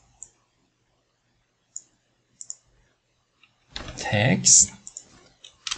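Computer keyboard typing, first as a few isolated clicks spaced out over silence, then as a quick burst of keystrokes. A person speaks over the later keystrokes.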